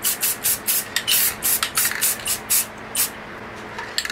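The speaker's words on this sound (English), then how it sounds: "just spray it real lightly across here" Short bursts from a spray paint can misted lightly across a small nature painting, about a dozen quick hissing puffs in an uneven rhythm, close and fairly soft, with no talking.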